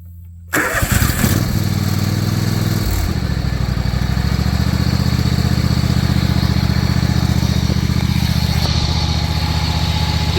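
John Deere X520 lawn tractor engine cranks briefly, catches and settles into a loud, steady idle up close, running on without talk over it.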